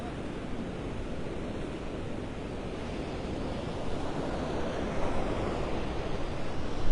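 Ocean surf pounds steadily at Vanderbilt Beach in North Naples, Florida, during Hurricane Helene, a continuous dense roar of breaking waves mixed with wind buffeting the microphone, building slightly toward the end.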